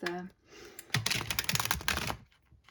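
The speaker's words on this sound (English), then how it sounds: "my tarot decks in particular, I always have difficulty shuffling, especially on camera" Cards of a tarot deck riffled and shuffled in quick bursts of papery clicks and flutters, fairly close, with a soft breathy pause before the main run of shuffling.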